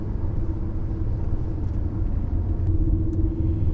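A 2001 BMW E46 330i Touring with a five-speed manual drives along steadily, its low engine and road rumble holding an even, continuous drone throughout with no talk.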